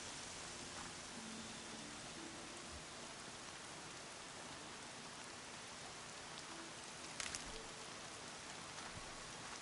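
Rain falling in the video game Horizon Zero Dawn as the weather turns wintry, a dense, even hiss of drops that holds steady and quiet throughout, with one brief louder patter near the end.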